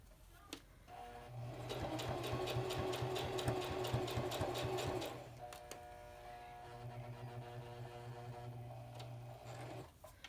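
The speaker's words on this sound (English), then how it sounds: "I can do another stitching along that same stitch line that I just created" A sewing machine stitches fabric for a twisted headband in two runs, a close, steady mechanical whirr with a rapid needle clatter, a brief pause between them and clicks at the start and end.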